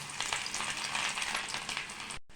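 Chopped garlic fries in hot oil for mango pickle, a steady, loud close-up sizzle with a crackling hiss throughout, cutting off abruptly near the end.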